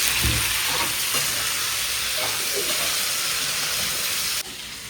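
Onions and tomatoes sizzle and hiss steadily in a hot pan, with faint stirring scrapes now and then.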